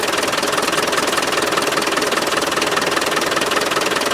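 A Land Rover 300Tdi diesel engine with fuel supply problems runs hard nearby, a loud, fast, even clatter of diesel knock that stays steady throughout.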